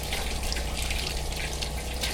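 Hot water from a tap fed by a Camplux CA318 tankless water heater in an off-grid tiny cabin runs in a steady, full hiss and splash, close and continuous without talk.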